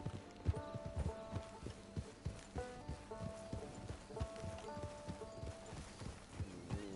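Horse hooves clip-clop on the ground near a camp, a run of fairly close, irregular thuds and clacks from a walking horse that fade in and out over several seconds, with no one speaking.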